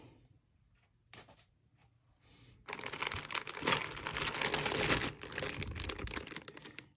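A plastic parts bag from a Tamiya TT-02D drift chassis kit is handled and torn open: a few faint clicks first, then a loud burst of close crinkling and rustling that fades near the end.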